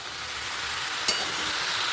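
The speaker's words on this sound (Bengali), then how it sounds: "আরও কয়েকবারই নাড়াচাড়া করবো ঢাকা চাকা দিয়ে, তারপর জল দিয়ে দেবো" Pumpkin greens fry in a pan with a steady, even hiss, broken once by a single brief scrape of a stirring utensil.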